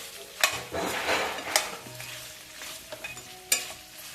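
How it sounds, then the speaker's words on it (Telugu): Chicken fry with ginger is stirred in a pan, producing a steady sizzle with a few sharp scrapes and knocks of a spoon against the metal, close and with no talking. "బాగా కలిపేసి తిప్పాలి"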